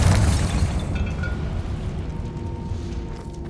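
A Confringo spell explosion in Hogwarts Legacy bursts loud and near with a deep booming blast at onset, then settles into a long rumbling roar that slowly fades over a few seconds.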